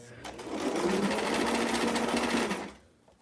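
A sewing machine stitches a Barbie square dance dress in one steady, fast run of needle chatter lasting about two seconds, close and clear, then stops.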